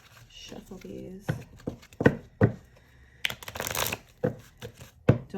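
A deck of tarot-style reading cards being shuffled by hand, close and crisp, in repeated bursts of riffling and slapping with brief pauses between; a voice speaks intermittently.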